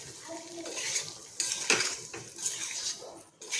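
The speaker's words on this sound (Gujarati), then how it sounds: "બટાકાને આપણે સારી રીતે મિક્સ કરી લઈશું" A spatula stirs boiled potatoes in a metal pan with garlic masala for bhungra batata. Irregular scraping and clinking of utensil against pan come up close, with brief pauses between strokes and no fresh sizzle, as the gas is switched off.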